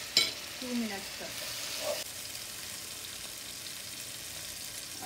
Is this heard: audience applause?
no